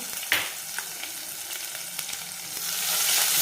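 Chopped onion, cut in large pieces, frying in a pan: a continuous close hiss of oil with a sharp scrape at the start and light stirring taps, the sizzle swelling slightly toward the end.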